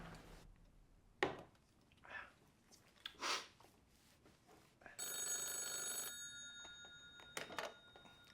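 Telephone ringing during a call, heard as an electronic ring tone with steady harmonic lines after a few scattered knocks and handling clicks, quiet overall.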